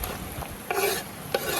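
Onions fry in melted butter in a pan while being stirred, with a soft sizzle and a few short scraping strokes close by.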